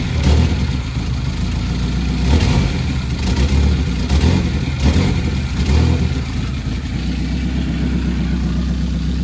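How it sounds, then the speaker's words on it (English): A newly bought project car's engine revs and runs roughly, with a steady loud mechanical drone and a few throttle blips throughout. "Give it a little rev."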